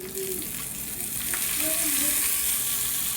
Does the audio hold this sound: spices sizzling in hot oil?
yes